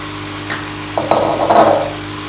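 Kachnar buds tip into a pot of well-fried mutton gosht in hot oil, giving a few clinks against the pot and then a brief burst of sizzling and stirring.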